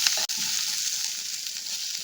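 Cauliflower, peas, potato and greens fry with a pinch of turmeric in a pan, a steady close hiss and sizzle running the whole time with one brief dip near the start, no voices.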